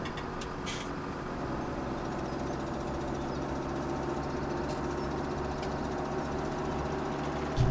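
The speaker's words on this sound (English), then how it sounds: "Engine started up and off we go." Tractor engine in Farming Simulator 17 runs at a steady, continuous drone, holding an even loudness throughout with a slight bump at the very end and no talking.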